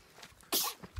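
A single short, sharp sneeze bursts out close by on a hazelnut farm in the Black Sea region, preceded and followed by faint background rustle and small sounds.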